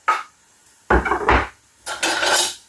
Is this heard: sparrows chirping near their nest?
no